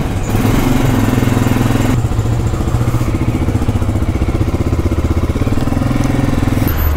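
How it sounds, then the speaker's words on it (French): A motorcycle engine runs loud and close during a road trip in Guatemala, a steady rough, throbbing drone that holds unbroken throughout. "on va pousser un peu la moto parce qu'elle fait du bruit"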